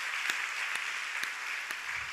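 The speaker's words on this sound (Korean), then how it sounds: "오늘 나온 우리 아이들 박수해주고" Applause in a church at a Friday late-night prayer service for the youth performing, a broad steady patter of many hands with a few louder bursts roughly every half second, moderately distant and without talk.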